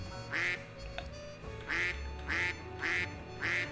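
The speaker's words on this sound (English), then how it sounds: "I can quack." Cartoonish duck quacks from the video game Duck Detective, four or five loud, evenly spaced quacks over a steady game music bed, with no talking.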